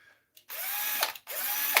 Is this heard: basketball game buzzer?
no